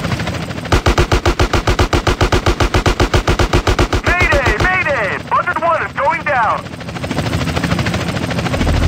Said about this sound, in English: Just keep shooting the helicopter, but take down the officers first.